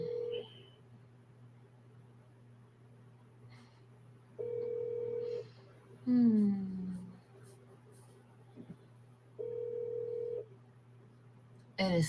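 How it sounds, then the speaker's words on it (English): A phone call placed through the TextNow app rings out in repeated ringback tones, a few evenly spaced beeps at moderate volume over a quiet background hum, with a brief swooping electronic sound between them. "I call him from this app because I don't have his phone number."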